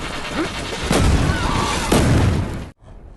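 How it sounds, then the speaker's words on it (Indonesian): A flying exploding ball bursts in a fantasy film battle, a loud broadband blast with rumbling booms that swells twice and cuts off abruptly into near silence. "Bola peledak pun diterbangkan dan meledak."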